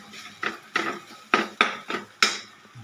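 Metal spatula scraping and knocking against a pan while basic fried rice is tossed, about seven sharp clanks in an irregular rhythm, close and loud, with no talking.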